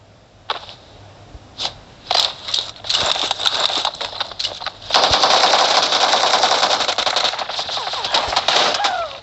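Video game gunfire erupts in rapid, loud bursts: scattered single shots early, then a sustained rattling volley that runs nearly to the end, heard up close.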